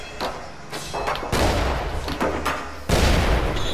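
Bomb blasts in the video game BADLAND: several heavy thumping booms, close and loud, with two big bursts standing out from smaller hits.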